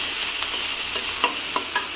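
Onions and slit green chillies fry in a pan for a small-fish and radish curry: a dense, continuous sizzle, close by, broken by a few sharp spoon scrapes toward the end.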